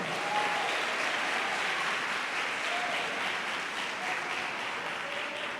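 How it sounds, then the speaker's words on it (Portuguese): A church congregation applauds during a Pentecostal celebration service, a steady wash of clapping from many hands that holds evenly throughout, with faint voices mixed in. "Aplauda Jesus nessa noite."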